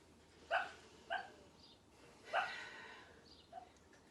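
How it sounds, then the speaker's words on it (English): A sleeping dog lets out several short, muffled whimpering yips and soft barks, spaced irregularly and faint against steady room noise in a quiet indoor space. "Our dog is having a nightmare."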